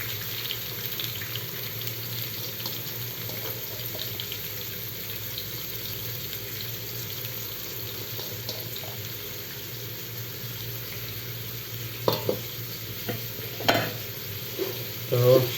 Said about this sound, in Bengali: এখানে আমি পেঁয়াজগুলো ঢেলে দিলাম।